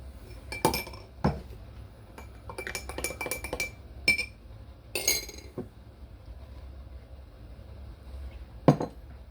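A metal spoon clinks against a glass while stirring syrup into coffee, giving bursts of rapid ringing taps separated by quiet pauses and a final sharp clink.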